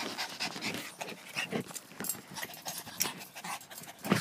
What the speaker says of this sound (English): And my dogs are coming.